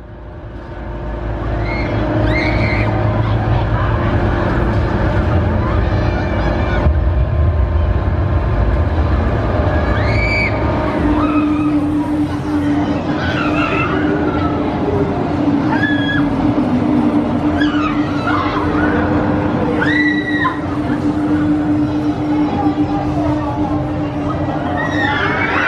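Zodiac amusement ride at Thorpe Park running, with a steady mechanical rumble and a sustained whirring hum that rises midway, crowd noise and distant screams over it throughout.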